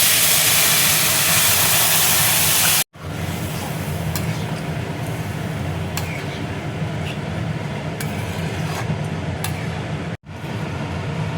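Boiled masoor dal with bottle gourd stems is poured into a hot tempering of mustard seeds and Kashmiri chili powder, giving a loud, steady hissing sizzle that runs throughout, broken by two abrupt cuts.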